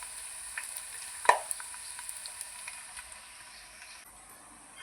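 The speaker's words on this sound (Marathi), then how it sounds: "आपला लसूण आता भाजत आलेला आहे." Garlic frying in a pan for chivda, a steady soft sizzle with one sharp clink of a stirring spoon partway through and light scraping ticks, alone with no voices.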